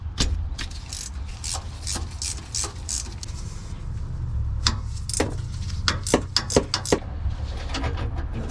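A ratchet wrench loosens a bolt on a Nissan Xterra differential, giving intermittent clicking bursts at close range over a low background hum.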